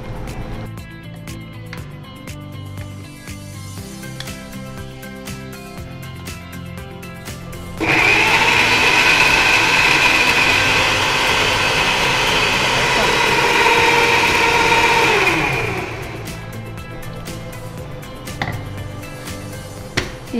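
Mixer grinder blending tomatoes with a little water into fine paste for tomato soup: a loud, steady motor whir running about seven seconds, then winding down, with talk before and after.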